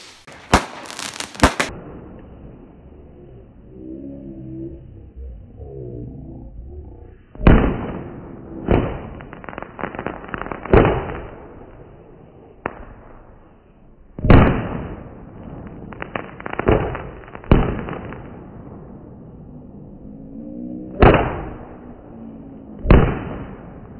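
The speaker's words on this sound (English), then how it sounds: "I've tried it with some fireworks as well. I'll just show you that quickly" Fireworks recorded on an iPhone 6 Plus go off in about ten sharp, loud bangs at irregular intervals, some in quick clusters, with brief crackles and quiet gaps between.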